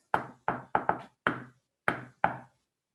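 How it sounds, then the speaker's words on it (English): A recorded door knock plays from an iPad speaker: seven crisp knuckle raps on a door, grouped in quick clusters with short pauses, then silence. "So let's go with door knock."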